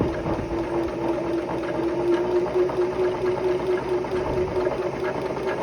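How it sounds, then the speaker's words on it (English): A sewing machine quilts through layered fabric and batting in a steady, continuous mechanical whir with a fine rhythmic needle chatter, close and constant throughout. "And here I am just quilting this."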